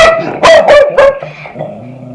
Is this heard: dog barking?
yes